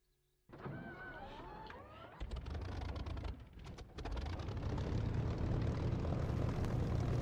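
A propeller aircraft engine cranks and starts in a DCS or War Thunder flight simulator, with a whining starter giving way to a loud, steady rumble that builds and holds up close.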